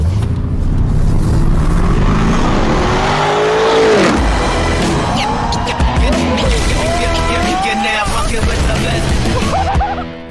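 A Lamborghini Urus drives through Malaga, Spain, its engine droning steadily and loud throughout, with rising and falling revs as it shifts gears. Someone talks over the engine noise.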